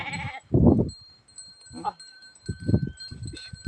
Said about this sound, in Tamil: தொழுவுக்கு வந்திருக்கு ஆடு